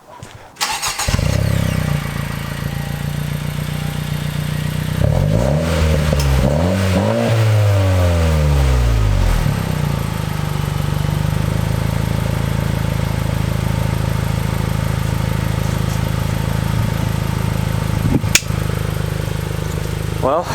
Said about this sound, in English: just got the resonator swapped, so let's fire it and see how it sounds now